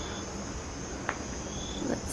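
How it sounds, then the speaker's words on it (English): A dense night chorus of many frogs and insects calling in Costa Rica after rain near Arenal Volcano, a steady continuous trilling drone with a few brief nearer chirps standing out, no talking. "Do you hear all that? Lots of frogs."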